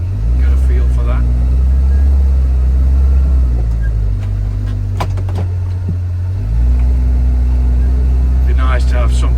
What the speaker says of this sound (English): The gear changing on the Kawasaki Ridge is quite clunky when you're going from forward to reverse.